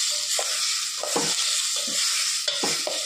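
Tomatoes frying in a pan with a steady, bright sizzle, broken by several scraping stirs of a spatula at uneven intervals, close and without talk.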